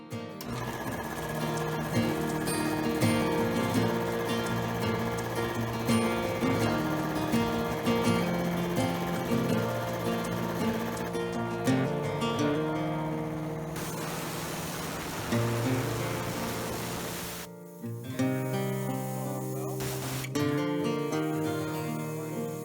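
A rebuilt 80-gallon air compressor runs loud and steady with a dense mechanical drone and rattle, then a sharp change near the end as the pressure shifts and the machine keeps chugging.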